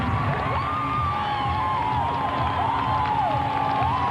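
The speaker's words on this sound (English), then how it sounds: "Plenty of applause from the Utah crowd." Arena crowd at the 2001 NCAA women's gymnastics championships in Utah, steady applause and cheering with whoops and shouts rising above a continuous roar.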